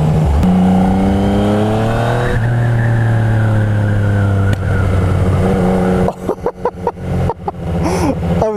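Motorcycle fitted with an aftermarket exhaust line and a quickshifter, accelerating hard: a loud, close engine note climbs in pitch, drops briefly on each clipped upshift, then bursts into a rapid series of sharp pops and cuts.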